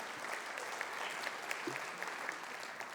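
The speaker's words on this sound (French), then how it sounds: "Sous vos applaudissements." Steady applause from an audience at an award ceremony for a regional innovation challenge final, a dense even clatter of many hands clapping throughout, moderately loud with no voices on top.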